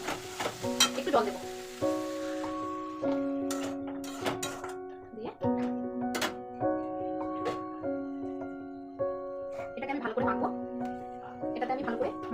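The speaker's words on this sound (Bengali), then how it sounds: "এখানে ভাজা হয়েছে সবজি এবার আমি জল দিয়ে দেবো" Water poured onto fried vegetables in a hot pan, sizzling and hissing up close, with stirring sounds and someone talking over it while a tonal background melody plays.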